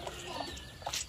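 A hen clucks in a few short, soft calls on a farm, with low background noise around them.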